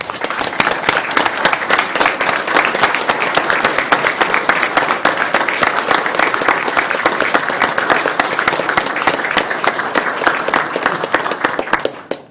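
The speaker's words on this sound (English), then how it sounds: "give the women and men in uniform behind us a round of applause for their service" An audience at a Maplewood city council meeting applauds, a dense, steady round of clapping that lasts about twelve seconds before cutting off abruptly.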